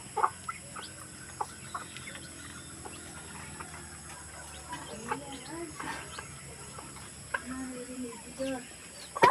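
Chickens at a rural hut cluck softly and intermittently near and far, scattered short calls under steady background hiss and occasional talk.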